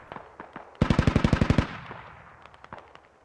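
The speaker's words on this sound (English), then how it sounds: "There's an enemy grenadier firing directly at you guys." An automatic weapon fired by an enemy grenadier in the military video game Squad rattles off a tight burst of about ten loud shots, followed by scattered fainter distant shots.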